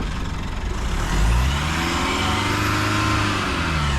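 A car engine is cranked with the starter in snow at minus five degrees in the Snowy Mountains, Australia: a steady, loud grinding whir with a surge just after one second, holding on without catching.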